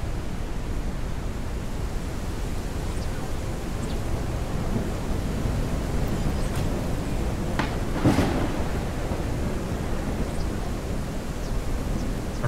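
Thunderstorm in the video game Forever Skies: a constant wash of rain and wind noise with low rolling thunder rumbles and a sharper crack near the end.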